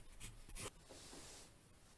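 A pencil writes on paper in a quiet room, with close, soft scratchy strokes in short bursts, then a steadier stretch of scribbling that fades slightly. No one speaks.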